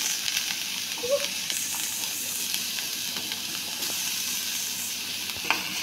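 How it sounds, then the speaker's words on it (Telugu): Grated carrot fries in ghee for sago payasam, a steady, close sizzle and hiss throughout with occasional faint stirring scrapes. "నెయ్యిలో ఇలా బాగా మగ్గేంత వరకు ఫ్రై చేసుకోండి"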